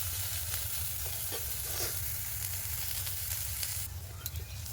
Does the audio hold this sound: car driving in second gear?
no